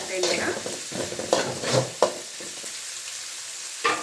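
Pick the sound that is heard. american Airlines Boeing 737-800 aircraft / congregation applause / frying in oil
frying in oil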